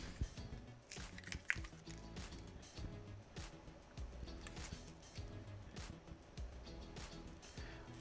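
Leftover acrylic pouring paint drizzled from a cup onto a large canvas makes faint, soft wet squishes and drips in an irregular patter, quiet and close.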